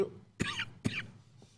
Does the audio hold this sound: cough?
yes